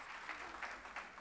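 A church congregation applauds to welcome a guest speaker, faint steady clapping with a few stronger swells, heard distant and low in level.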